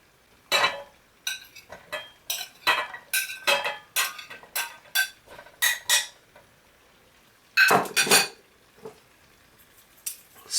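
Vegetables tossed into a hot pan with olive oil, heard as a series of sharp clattering and scraping bursts of utensil against pan, irregular and close, with quiet gaps between.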